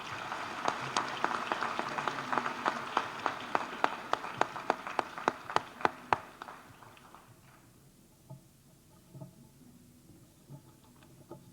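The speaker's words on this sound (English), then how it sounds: "One final round of applause for the entire group." An audience at a high school senior awards ceremony claps in a dense round of applause that thins to a few scattered, sharp claps before fading out in a large indoor hall.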